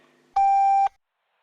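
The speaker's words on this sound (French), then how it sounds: "Veuillez laisser votre message après le bip" A single voicemail beep, a clean steady half-second tone, sounds clearly after a quiet line and is followed by silence.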